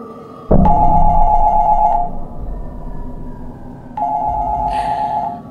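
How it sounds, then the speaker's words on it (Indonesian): An office telephone rings in two loud, close bursts of trilling bell tone, each lasting over a second, with a dull background hum between them. "Telepon di ruanganku lagi-lagi berbunyi."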